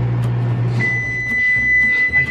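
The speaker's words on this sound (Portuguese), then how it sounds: "Será que ele viu o barulho do micro-ondas?" A microwave oven finishing a burger gives a sustained, steady electronic beep that starts partway in and holds while the appliance hums low underneath.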